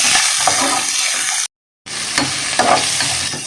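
Vegetables for veg kurma sauté in a hot pan with a loud, bright, continuous sizzle and stirring scrapes, broken by a brief silent gap before the frying noise resumes.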